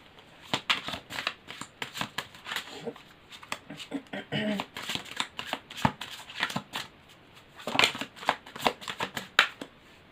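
Tarot cards are shuffled and drawn by hand in a series of quick, crisp riffling and flicking bursts, fairly close, with brief pauses between and no speech.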